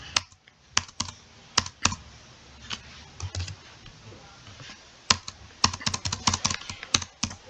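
Keys clatter on a computer keyboard as a payment entry is typed into Tally accounting software: close, sharp clicks come in irregular bursts with short pauses between them.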